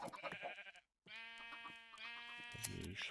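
Several sheep bleats from the Minecraft video game, loud and close, with a steady harmonic bleat running through the middle and shorter calls on either side separated by a brief silence.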